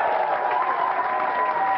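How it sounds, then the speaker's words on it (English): A studio crowd at a televised MTV event in Leicester Square applauds Meat Loaf, a dense steady roar of clapping, loud and continuous throughout. "Ladies and gentlemen, please round of applause for Meat Loaf."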